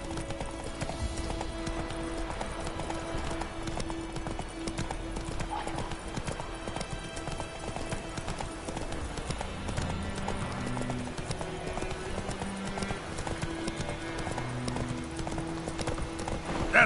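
The horse Roach galloping in The Witcher 3, hooves clip-clopping in a fast steady rhythm throughout, close and prominent over a soft music and ambience bed.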